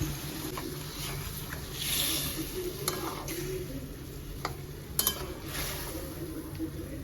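A fish curry in a pot on a gas stove, with water from rinsing the spice bowl just poured in, is stirred: soft scraping and light clinks of a spoon against the pot over a low, steady simmering hiss, close and unhurried.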